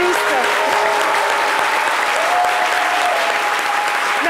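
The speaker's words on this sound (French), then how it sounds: "M. Diomandé Metouba, que je vous demande d'applaudir très très fort." Loud, sustained audience applause in a studio as a guest sports journalist from Côte d'Ivoire is welcomed, dense clapping continuing steadily throughout with crowd noise and faint voices mixed in.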